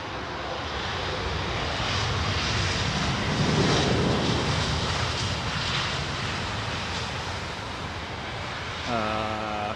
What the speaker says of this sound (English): the BEA 319, the last of the retrojets with British Airways for the time being